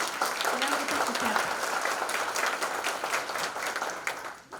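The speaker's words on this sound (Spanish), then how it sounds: "Les pido un aplauso para nuestra gran panelista." Steady applause from a forum audience after a panelist's introduction, a dense patter of many hands at moderate level that holds for several seconds and then begins to thin out at the end.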